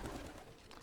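Pigeons in a loft coo softly and repeatedly, low throaty calls overlapping close by, with no talking heard.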